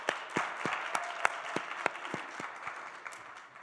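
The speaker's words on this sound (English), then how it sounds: "A round of applause for Robin Raskin for making all this happen." Applause from an audience at a Family Tech Summit during CES 2016, a steady wash of many hands clapping at moderate distance, with sharp individual claps standing out and slowly fading over several seconds.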